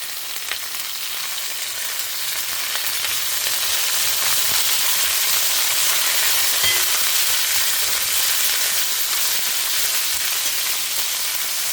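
Parwal (pointed gourd) sautés in a pan with a continuous bright sizzle and hiss, close and even throughout, growing slightly louder partway, with no talking.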